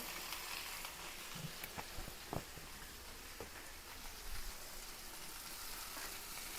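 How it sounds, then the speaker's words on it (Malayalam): Coconut oil poured into a hot pan crackles and sizzles steadily, with a few sharper pops and spatters, close and moderately loud with no voice. "വെളിച്ചെണ്ണ ഒഴിച്ചു കൊടുക്കാം"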